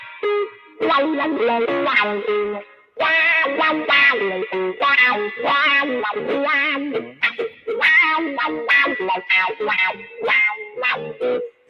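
An electric guitar plays a busy melodic line through a wah pedal, its tone sweeping and watery, with short pauses between phrases.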